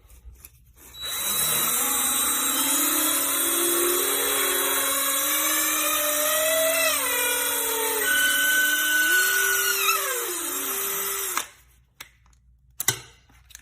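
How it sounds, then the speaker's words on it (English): A power drill bores out fishing rod grips, spinning up to a loud, steady whine whose pitch drifts and rises as the bit works through the material, then cuts off, followed by a few faint clicks. "we got quite a bit of drilling to do on this"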